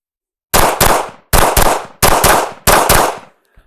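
Rapid bursts of gunfire from a practical shooting session, fired in four tight groups of two to three shots each, loud and close, with sharp cracks separated by short pauses and no speech.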